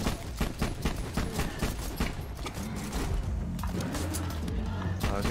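Rapid gunfire bursts from a Borderlands 2 co-op shooter game, repeated sharp shots over the first few seconds, then quieter mechanical game sounds with faint talk.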